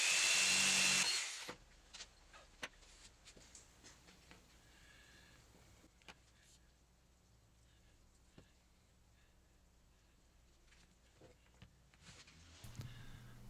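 A power drill drives 2.5-inch deck screws into a glued 1x2 wood block held by a C-clamp, making one loud, whirring burst of about a second up close, followed by a quiet room with faint scattered clicks.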